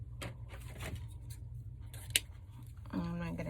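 Scissors snip a long ribbon tail on a tulip flower wreath built on a football frame, giving a single sharp crisp cut amid quiet handling noises, with someone talking softly before it.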